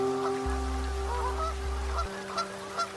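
Geese honking at close range, a few loud, drawn-out nasal calls followed by shorter honks, with no other sounds.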